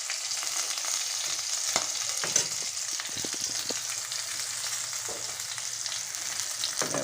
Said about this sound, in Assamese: আপোনাৰ মাছ ভাজি হৈছে, অলপ ৰঙচুৱাই হৈছে